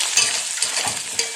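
Chopped onion and drumstick tipped into hot oil with spluttering mustard seeds in an iron pan give a steady broadband sizzle with a few clinks and stirring scrapes, close and continuous, with no talking.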